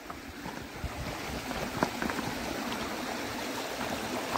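River water flows steadily in a stream just behind the listener, making a continuous, fairly soft rushing wash with a few small splashes and no voices.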